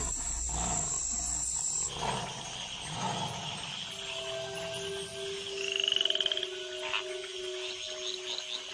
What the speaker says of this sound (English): the tree frogs gather for bouts of communal cuckling